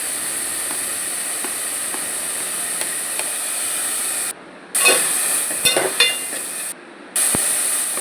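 Onions and tomato fry in a pan with a steady, hissing sizzle throughout, broken by brief drops and faint clinks of a utensil, close and fairly loud.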